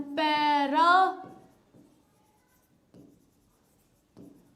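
A pen scratches on paper in a pharmacy lesson, making a few faint strokes after a short burst of speech at the start.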